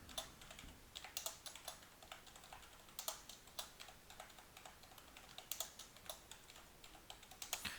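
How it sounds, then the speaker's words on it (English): Typing on a computer keyboard while entering figures into a spreadsheet: a steady run of light, close key clicks with small irregular bursts, alone and fairly quiet. "I'm going to type that out."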